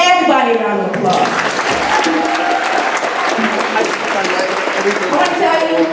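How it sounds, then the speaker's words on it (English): A middle school audience at a Black History Month assembly breaks into loud, sustained applause that fills the hall with dense clapping and crowd noise for several seconds. "So give everybody a round of applause."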